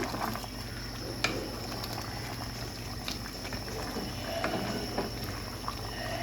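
Beef and liver curry simmers in a pot while it is stirred, a steady bubbling, watery churn with occasional soft clicks of a spoon against the pot, close and moderately quiet.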